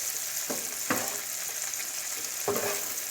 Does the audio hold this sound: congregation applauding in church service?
no